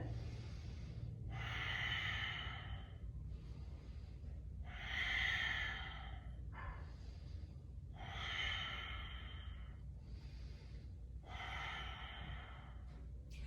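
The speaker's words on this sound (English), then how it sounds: "Breathing in." Slow, steady breaths in and out, each long airy inhale and exhale audible and close, repeating in an even rhythm with no talking.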